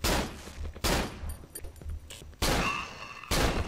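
Gunshots in the horror game Cry of Fear: three sharp, loud blasts spaced about a second apart, each with a brief reverberant tail, no talking.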